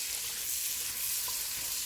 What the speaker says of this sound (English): we're going to melt the butter